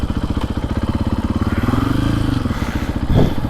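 A Husqvarna FE450 Heritage Edition motorcycle with a snubber in the exhaust runs close by, a steady muffled thumping idle that swells briefly as it revs, then settles back.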